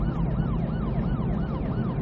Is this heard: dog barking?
no